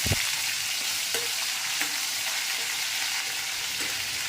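Green chillies and curry leaves sauté in hot oil for a fish curry, giving a steady, close, continuous sizzle with a few brief crackles and stirring scrapes throughout.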